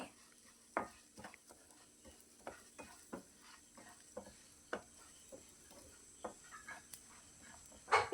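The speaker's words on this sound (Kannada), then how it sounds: "ಈಗ ಇದನ್ನು ಚೆನ್ನಾಗಿ ನಾನು ಫ್ರೈ ಮಾಡ್ಕೊಳ್ತೀನಿ." Fenugreek, cumin and peppercorns dry-frying in a pan for Udupi-style mutton ghee roast, with a faint background sizzle and frequent light clinks and scrapes of a spoon against the pan, close and unhurried, no voices.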